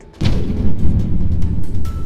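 A loud explosion depicting a Boeing 787-8 crashing in Ahmedabad hits suddenly and then rolls on as a heavy, sustained booming rumble for about two seconds.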